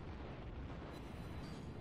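A battleship fires a gunfire salvo in the World of Warships naval video game, heard as a dense, rumbling low boom that rolls on through the whole moment without a clear gap.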